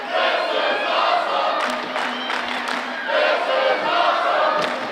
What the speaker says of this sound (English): Crowd loving every second of the action here in the Scottish Rite Temple, chanting, "This is awesome."